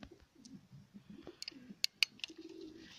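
Soft, low Budapest pigeon coos roll in brief phrases, joined near the end by a few sharp clicks.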